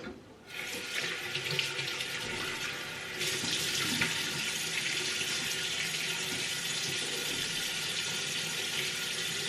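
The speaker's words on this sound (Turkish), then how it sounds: "Şimdi yüzümü yıkıyorum." Water runs from a bathroom sink tap while a face is washed, a continuous splashing rush that grows fuller after a few seconds and stays steady, close by and with no voices.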